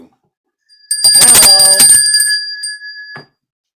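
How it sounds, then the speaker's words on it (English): A bright hand bell is struck once, ringing loud and close and then decaying over about two seconds, with a short greeting spoken right after. "You can ring the bell for yourself."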